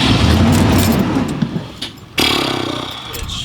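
A 1991 Ford F-150 that sat for eight years cranks over without firing, a steady churning grind that breaks off briefly, then starts again just as loudly.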